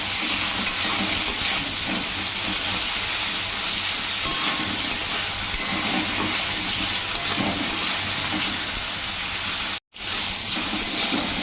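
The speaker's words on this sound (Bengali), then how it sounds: "আর সামান্য হলুদ দিয়ে দিচ্ছি। ভালো করে ভেজে নেবো ফুলকপিগুলো।" Cauliflower florets fry in oil with turmeric, giving a dense, constant hiss and crackle that stays loud and even, broken only by a split-second dropout near the end.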